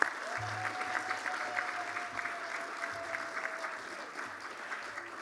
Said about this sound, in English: Let's give Uncle Dennis another big clap.